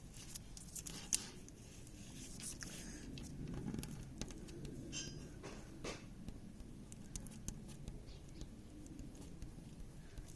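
Quiet snipping of scissors through sticker paper and tape, with rustling and small taps scattered across a soft background.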